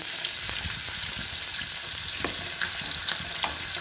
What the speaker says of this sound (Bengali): আর এখানে মাছ ভাজা বসিয়ে দিয়েছি